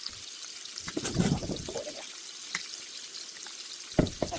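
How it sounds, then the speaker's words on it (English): Vegetables go into a hot pot roast pan, giving a few quick sizzling bursts and clatters and then a softer crackle of searing, fairly faint. "So now what I'm going to do, I'm going to add my veggies inside"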